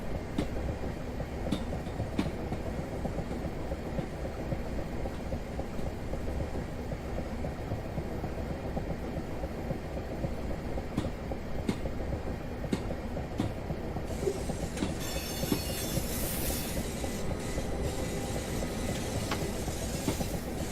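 A Class 375 electric train pulls away from London Victoria in Train Simulator 2018, a steady loud rumble of wheels and motors with faint rhythmic clicks over the rails, rising hiss near the end, no voices.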